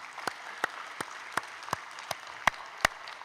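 Clapping at a Wednesday church service, a series of about eight sharp, evenly spaced claps in a slow rhythm at a fairly quiet level over a faint room background.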